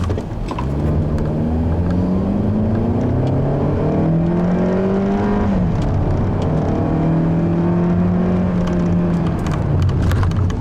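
A 2014 Hyundai Elantra engine hums steadily while driving, with a buzzy tone that rises and falls gently as the speed shifts, loud and close throughout.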